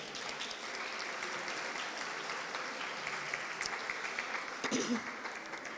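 An audience at a community chai night event claps steadily throughout, a dense, even patter of many hands, with a few louder bursts near the end.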